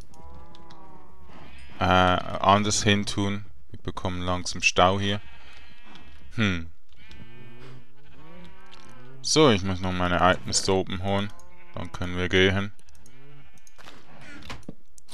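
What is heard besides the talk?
sheep bleating in Minecraft video game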